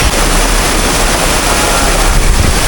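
Rushing water of a waterfall at Clarenda's Farm in San Jorge, Samar, a loud, steady broadband roar that stays constant and close throughout, with no voices.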